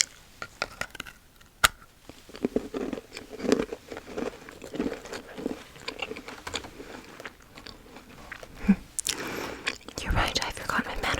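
Crisp bites and crunchy chewing of a cookie sound up close in a quiet, intimate period-drama ASMR roleplay. The mouth sounds come in scattered bursts between soft whispered speech.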